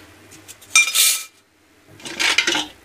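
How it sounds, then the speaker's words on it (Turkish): Metal spoons, forks and a ladle are dropped into a bowl in a kitchen, making two loud clattering bursts of jangling cutlery, close and bright, separated by a brief pause. "bütün kaşıklarınızı, çatallarınızı, kepçenizi, ne varsa böyle bir kabımızın içerisine koyalım"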